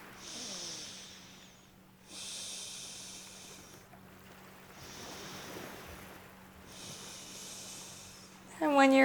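Slow, deep yoga breaths, each long airy inhale or exhale lasting about two seconds, repeated four times with pauses between, soft and close over a low steady hum.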